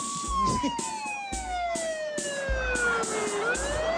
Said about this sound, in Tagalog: May sirena na